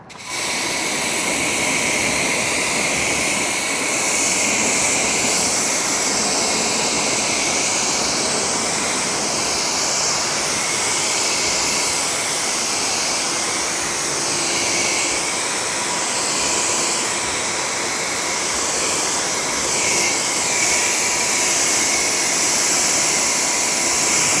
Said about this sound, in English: Let me go ahead and rinse this front end so you can see what Hydro Lite looks like.